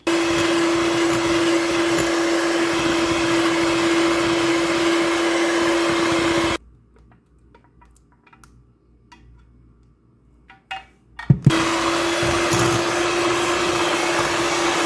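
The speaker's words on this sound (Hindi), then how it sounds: "अब हम इसमें कस्टर्ड थोड़ा थोड़ा डालेंगे और इसको मिक्स करेंगे।" An electric hand mixer whips cream with custard for homemade custard ice cream, a loud steady motor whine running for about six seconds, then cutting off to near silence with a few faint clinks before starting again.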